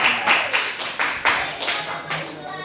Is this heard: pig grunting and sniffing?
no